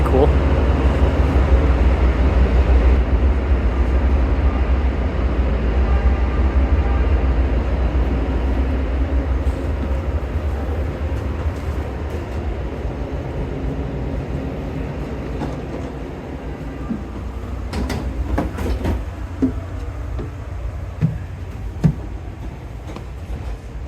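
Onboard ride on a Metra BNSF Line commuter train with gallery cars, a steady low rumble of wheels and car body running throughout, easing slightly later with a few scattered clanks and knocks near the end.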